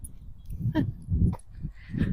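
A dog whimpers outdoors on a bright morning, giving two or three short, high, wavering cries over low rumbling background noise.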